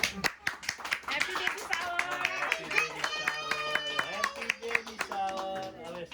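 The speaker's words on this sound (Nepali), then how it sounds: "ओके ल ल सबैले ताली है मजाले।" Guests clap at a baby shower celebration, a steady patter of handclaps running throughout while a voice sings over it in the foreground.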